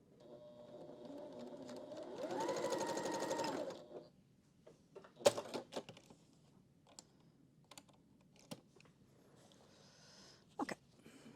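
A sewing machine stitches a quilt block in one steady mechanical whirring run of about two seconds, then falls silent, leaving scattered sharp clicks and taps from handling the fabric and machine.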